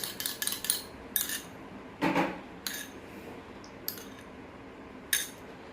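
Stirring a homemade hair oil mixture for hair fall in a small bowl, with a spoon clinking against the container in scattered light taps and scrapes, close and fairly quiet, no talking.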